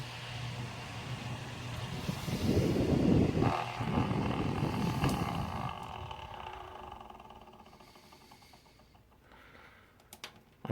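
A worn Kuo Horng KH-06-CL-SL clip fan, its motor nearly shot, whirs steadily, then its hum fades and slows as the blades spin down to near quiet.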